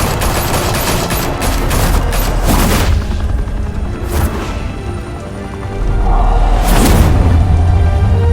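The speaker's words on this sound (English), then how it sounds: "Open fire!" Video game gunfire from a Batman title: heavy continuous volleys of shots and booms, densest at the start, with another loud burst near the end over a constant low roar.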